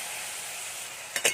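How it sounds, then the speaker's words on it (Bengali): Chopped coconut pieces fry in hot oil in a wok. A steady close sizzle runs throughout, and two short, sharper bursts of spatter come near the end. "এবারে আমি নারকেল কুচিগুলো ভাজতে যাচ্ছি"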